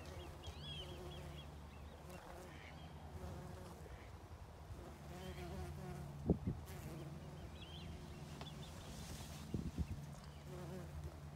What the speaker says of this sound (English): Another common carder bee.